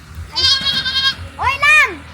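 A goat bleats twice nearby, first a long wavering cry and then a shorter, rising and falling bleat, with faint background sound between them.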